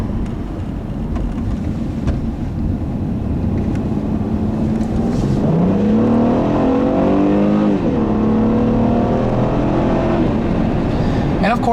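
A 2012 Honda Crosstour's 3.5-liter J-Series V6 pulls hard through the revs from inside the cabin, the engine note climbing, dropping at a shift, then rising again over steady road noise.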